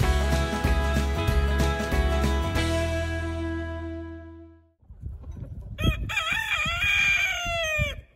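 Three-week-old broiler chickens in a chicken tractor on pasture, heard in the second half as a short burst of crowing-like calls and clucking that follows a sustained tonal passage.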